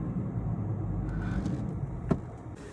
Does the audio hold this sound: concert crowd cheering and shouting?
no